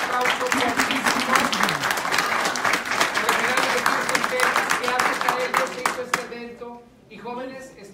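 Audience applause rattles on as a thick, steady clatter of many hands for several seconds, then tapers off as a voice speaks near the end.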